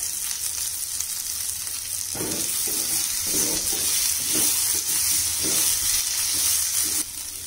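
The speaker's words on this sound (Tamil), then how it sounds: "இப்போ எல்லாமே நல்லா வறுபட்டுருச்சு." Dry red chillies roast with peanuts in a pan for peanut chutney, a constant hissing sizzle with a series of rhythmic stirring scrapes in the middle, close and fairly loud, no voices.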